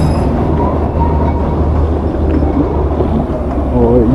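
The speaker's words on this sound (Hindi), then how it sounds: "ये है हमारा फेमस टॉय ट्रेन।" Darjeeling's narrow-gauge toy train rolls along its rails with a deep continuous rumble, occasional metallic squeals and a wheel screech near the end, with indistinct voices in the background.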